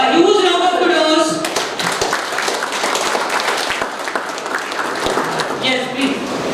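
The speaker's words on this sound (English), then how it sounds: "A huge round of applause." An audience at a university national event applauds, a steady patter of clapping mixed with voices and chatter, loud and close throughout.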